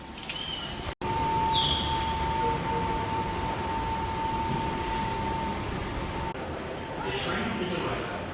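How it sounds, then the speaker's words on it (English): The Seattle monorail, a train about 60 years old, pulls into a station with a steady mechanical rumble and a sustained tone over the background hiss, nearby and fairly loud. "The train is arriving."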